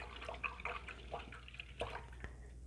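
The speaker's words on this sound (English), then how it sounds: "So I'm going to rinse my brush out" An acrylic paintbrush is rinsed in water, giving faint, close little drips and sloshes in short irregular bursts over quiet background hiss.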